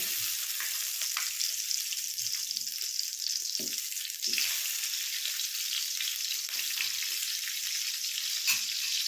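About two tablespoons of ghee sizzle steadily as they melt in a preheated kadai, a constant close crackling hiss with a few faint clinks.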